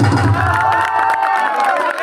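A stage comedy show audience gives loud applause mixed with cheering and high whoops, a busy crowd roar that stays close and energetic throughout.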